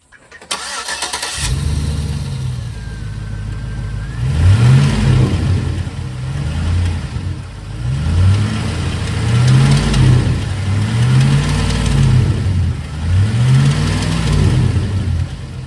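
A 2006 Chevrolet Silverado engine cranks, starts and runs with repeated revving swells, a rattle in the engine under the close, loud motor noise.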